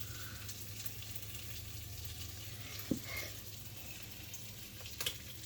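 Breakfast sizzling in a frying pan gives a faint, steady hiss throughout, broken by a couple of small clinks.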